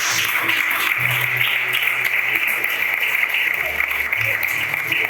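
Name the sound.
congregation applauding in church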